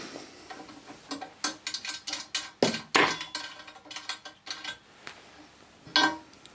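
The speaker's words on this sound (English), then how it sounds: "So first off, we're going to remove the nut." A nut is worked off a threaded stud with a hand tool, producing a series of close metallic clicks and clanks in uneven bursts, with no talking.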